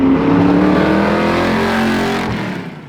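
A 1968 Shelby Mustang GT500 restomod with MagnaFlow mufflers and exhaust cutouts revs loud and close, a deep throaty roar that holds and then fades as the engine settles.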